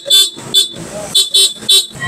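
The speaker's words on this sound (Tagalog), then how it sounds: "Loud horn with rapid." A Honda ADV150 scooter's loud aftermarket horn sounding in rapid bursts, five or six sharp, close, loud toots in quick succession.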